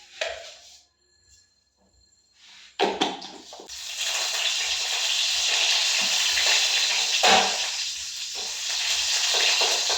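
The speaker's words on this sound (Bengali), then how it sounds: "দেখুন শিমগুলো আমার ভাজা ভাজা হয়ে গেছে" Flat beans frying in a pan: after a near-silent start, a sudden loud sizzle bursts in and holds as a steady close hiss with faint stirring, no talk.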